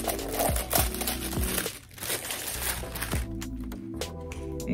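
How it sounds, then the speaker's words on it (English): Tissue paper being pulled off a small Kurt Geiger London handbag inside its box: soft, continuous crinkling and rustling close by, varying in intensity, without speech. "Let's take the tissue paper off."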